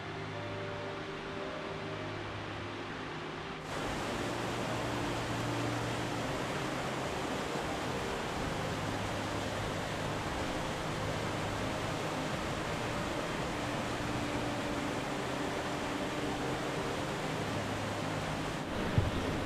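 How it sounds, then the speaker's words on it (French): The Cascades d'Orgon waterfall in the Massif Central, heard from above: a steady, broad rushing roar of falling water, constant and fairly distant, with no talk over it. "nous sommes juste au-dessus des cascades d'Orgon, on les voit pas encore"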